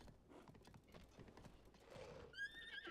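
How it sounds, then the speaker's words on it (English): Clip-clop of a horse's hooves on terrain in Zelda: Tears of the Kingdom, ending with a short, bright whinny; quiet, with no clear talk over it. "I'm taking this horse."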